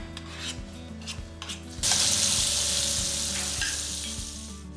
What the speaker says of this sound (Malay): masukkan paste kari yang kita sediakan tadi.